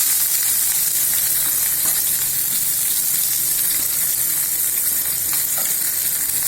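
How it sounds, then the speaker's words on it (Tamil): Chopped onion frying in a pan for manathakkali keerai soup, a steady loud sizzle with occasional stirring scrapes, continuous and close throughout. "எடுத்துட்டு வெங்காயம் போட்டுடலாம்."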